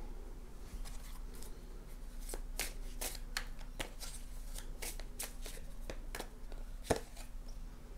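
Tarot cards shuffled and drawn by hand in a steady run of crisp riffling slaps and flicks, close up over a low steady hum, with no talking.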